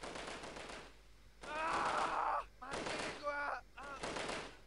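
Gunfire in the video game Delta Force during an Indonesian mission, bursts of shots in separated clusters with gaps between, mixed with a voice or groan-like sounds, moderately loud.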